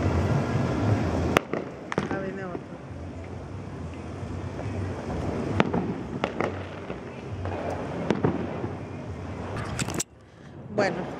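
Fireworks go off on New Year's Eve, with sharp bangs and crackles at varying distances over a constant rumble of wind on the microphone, while people talk nearby throughout.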